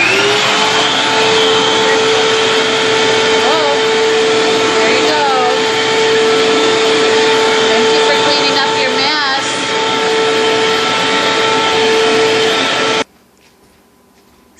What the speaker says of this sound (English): thank you for cleaning up the mess with the new vacuum